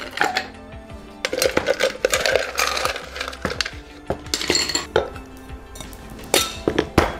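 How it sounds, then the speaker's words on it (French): Ice cubes dropped into a cocktail shaker after pure malt whisky, a quick run of hard clinks and clattering knocks against the metal, close and fairly loud with no talking. "On finit avec nos glaçons."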